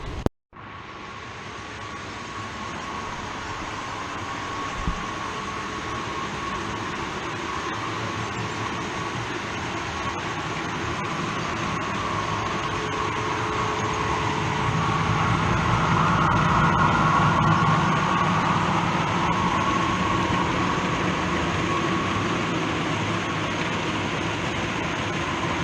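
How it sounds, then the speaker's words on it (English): A model railway freight container train on a large loft layout rolls through a station with a continuous mechanical rumble and whir. The sound swells gradually as the train draws nearer, peaks midway, then eases slightly. "just show you the freight container going through the station"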